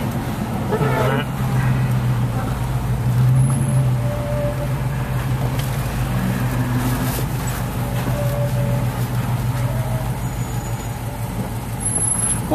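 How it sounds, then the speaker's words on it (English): Steady hum of city traffic on wet streets in downtown Iguala, Mexico, heard from inside a moving car, with engines droning low and a continuous wash of tyre hiss throughout, a few brief voices in the background. "More traffic."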